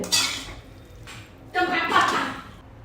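Hakka noodles being stirred and tossed in a pan, giving a few close scraping and clinking utensil strokes with soft squishy mixing sounds between them.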